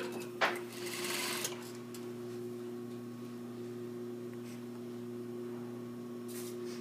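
A sewing machine hums steadily at close range while it stitches a seam, with a low even motor tone throughout and a few brief rustles and clicks near the start.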